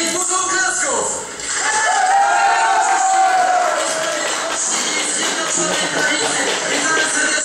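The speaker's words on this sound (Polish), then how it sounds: "powitajmy ich dużą oklasków!" Crowd at a campaign rally in Poland cheering and applauding loudly, a dense continuous roar with shouts rising over it after a brief dip.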